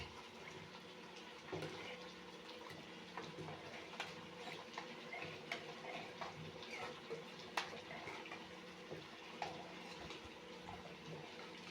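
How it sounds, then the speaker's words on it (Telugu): Water is poured into cooking dal seasoned with salt, chilli, turmeric and coriander powder for a broad-bean sambar, a soft, continuous pouring and splashing with small clinks, faint and close. "తగినంత వాటర్ కూడా వేసుకునేయచ్చండి ఇప్పుడే"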